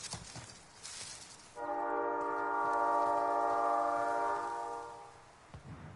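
A train in a video game sounds a long, steady multi-tone horn blast for several seconds, loud and close, over rumbling rail noise and background game sounds.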